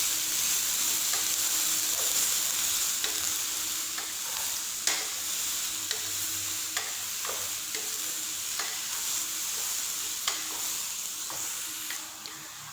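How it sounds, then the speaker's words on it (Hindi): Onions frying in a pan, browning for an arvi masala curry, give a steady close sizzle with faint crackles and occasional stirring scrapes throughout, with no talking. "अच्छे से आप लोगों ने इनको फ्राई करना है। बिल्कुल ब्राउन कर लेना है आप लोगों ने इन प्याज़ों को।"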